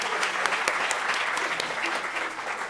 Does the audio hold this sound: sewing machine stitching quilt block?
no